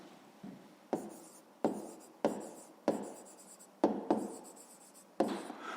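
Pen strokes scratch across paper while working a school maths exercise, a run of short close scribbling bursts, each starting sharply and trailing off, repeating roughly every half second to second with no talking.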